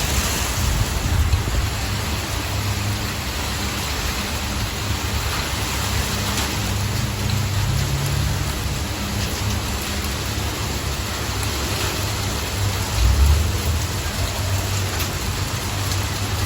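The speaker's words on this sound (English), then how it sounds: "Heavy sleet and rain." Heavy sleet and rain falling during a winter storm with strong gusty winds, a steady dense hiss that stays even throughout, with occasional low wind rumbles underneath.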